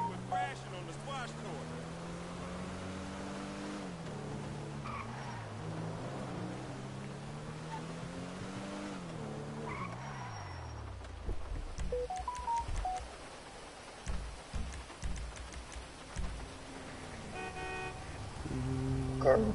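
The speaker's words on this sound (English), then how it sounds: "Sound like one of them scrapyard sports cars coming down the street with them little turbos on it" A scrapyard-style sports car with small turbos in GTA 5 Online revs repeatedly, engine note rising and falling in long sweeps, followed by choppier bursts, with speech heard in the background.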